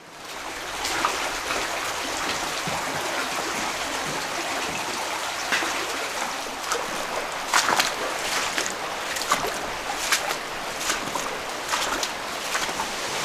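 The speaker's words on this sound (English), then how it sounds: "I can hear the waterfall. I can hear the water raining down." Steady broadband rush of a waterfall pouring down inside a quiet Zion canyon fork, continuous and fairly close, with small splashy surges but no talk.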